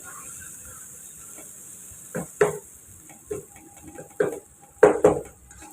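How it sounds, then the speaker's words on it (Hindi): A spoon stirs tomato paste and spices in a pan for a bhindi (okra) dish, making a few sharp clinks and scrapes against the metal in irregular bursts over a quiet hiss, close by and with no talking. "उनका पेस्ट इसमें शामिल कर देंगे, और इसे मसाले के साथ अच्छी तरह मिक्स कर लेंगे"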